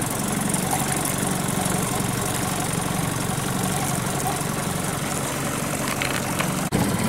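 A 2017 Mercury 9.9 outboard motor runs steadily on a boat at low speed, a loud continuous drone with wind and water noise, holding even throughout with a brief dip near the end.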